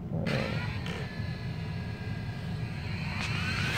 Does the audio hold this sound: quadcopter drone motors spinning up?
yes